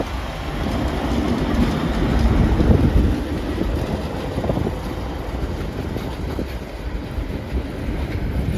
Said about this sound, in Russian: Сейчас сюда поезд приедет. 376 на первый путь.